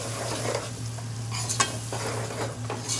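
Lamb chop curry with tomato puree stirred in a pan, a steady close sizzle under soft scraping strokes of the spoon, with no one talking.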